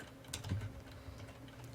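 Faint, quick keystrokes on a computer keyboard, a short burst of soft clicks in a quiet room.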